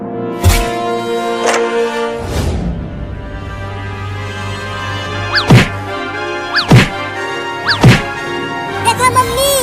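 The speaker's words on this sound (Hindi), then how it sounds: "देखो मम्मी, वो कमीनी बिलार दरवाजे को कैसे मार रही है, लगता है जैसे तोड़ ही देगी।" A cartoon cat bangs against a door in a Hindi comedy cartoon, giving several loud thunks and whacks spaced a second or so apart, mixed with music and sound effects.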